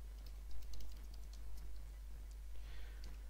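Keys tapped on a computer keyboard while a disk command is entered to format a flash drive, a light scatter of quiet clicks in loose bursts over a steady low hum.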